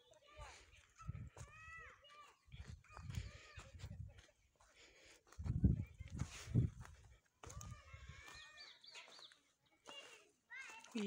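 Chickens cluck and crow among goats in a rural Indian village, the bird calls coming in bursts at moderate distance while people, including a child, talk over and between them.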